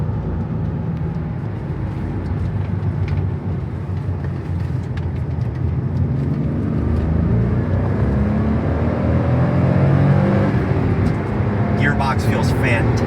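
A 1994 Nissan 300ZX twin turbo with 80k miles accelerating hard, its engine a steady low roar that builds and rises in pitch from inside the car while someone talks over it.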